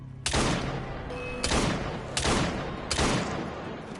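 Four heavy gunshots in the video game Assassin's Creed Syndicate, set in a World War 1 sequence, fired one at a time about a second apart, each loud and sharp with a rolling echo tail.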